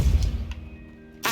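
The Depulso spell is cast in Hogwarts Legacy: a brief thumping whack, a short crack midway, then a sharp burst at the end over low rumble.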